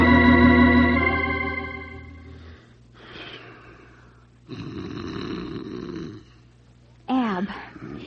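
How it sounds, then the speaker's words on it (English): In an old radio drama, a man snores loudly and close up in a few long, rasping breaths, ending with a short snort or gasp. "roll over. You're snoring."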